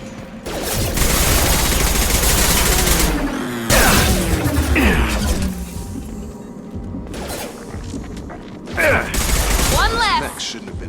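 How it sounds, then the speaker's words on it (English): Shotgun fire in the video game Mass Effect 2, with loud bursts of gunfire and mechanical clatter running through a combat scene, several heavy blasts near the start and again toward the end. "Shotgun!"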